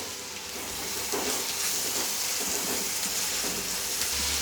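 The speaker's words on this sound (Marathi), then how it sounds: "कांदा लालसर होईपर्यंत तेलात फ्राय करायचा चांगला" Chopped onion and tomato fry in hot oil for a Malvani-style prawn curry, giving a steady, close, hissing sizzle that holds throughout without any talk.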